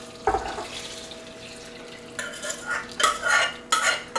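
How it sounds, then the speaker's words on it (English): Liquid ingredients being stirred into granola in a bowl, a quiet start followed by wet scraping and clinking spoon strokes that grow louder in irregular bursts, with no talking. "take these liquid ingredients and just mix it all in there"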